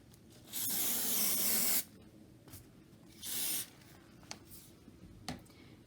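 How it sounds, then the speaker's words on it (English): Artistic Tack adhesive spray hisses onto green fabric in two bursts, a longer one of about a second and then a shorter one, close and fairly quiet, with light handling noises in between. "I just want to lightly spray my green fabric"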